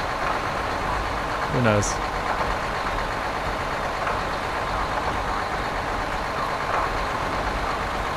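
A gas-sounding vehicle engine in the game Stasis rumbles steadily at a low pitch throughout, with a short rising whine near the start, while someone talks briefly over it.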